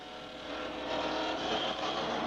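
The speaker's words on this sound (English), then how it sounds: "Right now, I'm just working accelerator to make sure I don't foul any spark plugs" A stock car engine at the 1985 Coca-Cola 500 holds a steady, throaty idle and is blipped on the accelerator, rising slightly and droning on, heard at a moderate distance with no talk.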